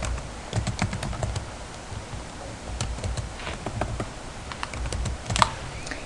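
Rapid, uneven keystrokes on a computer keyboard, close and clear, clicking in quick bursts with brief pauses and no talking.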